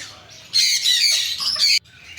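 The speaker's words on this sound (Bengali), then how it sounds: "এই দেখো, এটা হলো ম্যাকাও" Macaw parrot at a bird farm giving loud, harsh squawks in one sustained burst of about a second, close to the listener, with quieter bird noise before and after.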